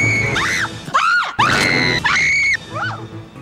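A woman in a Batman film lets out a rapid series of loud, shrill screams, four or five close together with brief gaps between them, each rising and falling in pitch.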